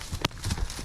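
Hooves of a half-Clydesdale mare under a rider, a couple of quick clip-clop hoof strikes close by within less than a second.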